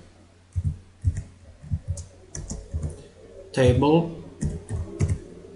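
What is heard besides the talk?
typing an SQL statement on a computer keyboard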